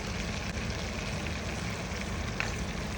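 Red chilies fry in hot oil for a Bengali crab curry, giving a steady, dense sizzle that stays even throughout with no talk over it.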